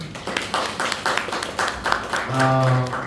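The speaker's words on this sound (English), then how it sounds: "Can you have a big round of applause for Rishida?" At a panel discussion, an audience gives a short burst of scattered clapping, fairly close and moderately loud, as a voice briefly starts up near the end.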